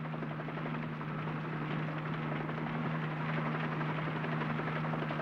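A helicopter hovers over a hot, smoky wildfire, its rotor and engine making a loud, steady drone that holds evenly throughout.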